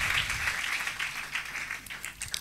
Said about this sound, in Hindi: जोरदार तालियां बजा दे